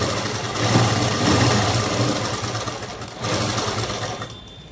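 A sewing machine stitches a folded hem at the side opening of a Punjabi-style dress, giving a continuous close whirring drone that swells and eases with the speed of stitching before stopping.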